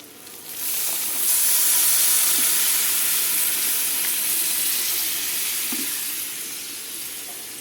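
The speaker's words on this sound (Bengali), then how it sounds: "এখন আমি গরম পানি দিয়ে দেব।" Hot water poured into cooking khichuri sets off a loud, steady hiss of steam and sizzle that lasts several seconds before easing slightly.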